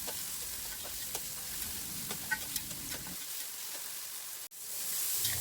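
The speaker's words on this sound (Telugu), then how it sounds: "ఆనియన్స్ మొత్తం బ్రౌన్ కలర్ వచ్చి ఇప్పుడు కొద్దిగా సాల్ట్ వేసుకొని ఒకసారి కలిపి మూత పెట్టుకోవాలి" Browned onions with salt stirred in a hot pan for a Telugu tomato-onion curry give a quiet, steady sizzle with a few spoon clicks, a brief dropout, then a louder hiss, with no talking.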